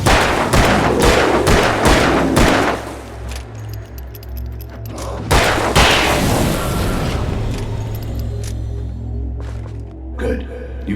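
Gunfire in the Alan Wake video game: a rapid run of loud, sharp shots over a low rumbling backdrop, then a few isolated bangs and thuds further on.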